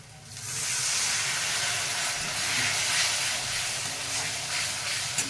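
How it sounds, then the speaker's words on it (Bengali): Water poured into a hot pan of chicken ghugni bursts into a loud, continuous steamy hiss and sizzle. The sound rises quickly at the start and holds steady for several seconds, close up, with no voices. "এবার আমি এতে একটু জল অ্যাড করে দেবো"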